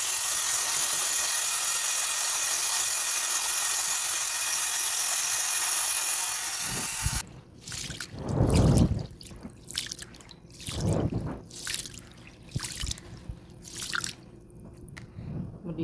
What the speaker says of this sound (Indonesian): Sekarang akan saya nyuci beras.